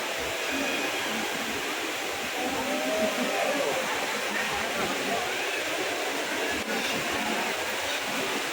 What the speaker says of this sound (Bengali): ভর্টেক্সের পিছনে যে ট্রেনটি দেখা যাচ্ছে সেই ট্রেনটি টার্মিনাল 1 থেকে 2, 2 থেকে 3 এভাবে যাতায়াত করে